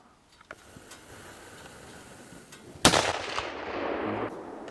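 A single rifle shot during a deer hunt outdoors in hilly woods, one sharp loud crack after quiet rustling, followed by a rolling echo that fades slowly.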